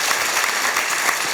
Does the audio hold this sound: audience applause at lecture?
yes